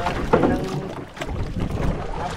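A brief stretch of motorboat engine on the water, a steady rumbling drone with wind and splash noise, fairly close and unbroken.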